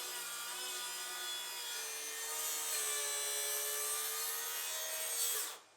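A plunge saw tilted to its maximum bevel of roughly 47 degrees cuts through wood in one continuous, loud, whining rasp that holds steady for several seconds, then stops abruptly.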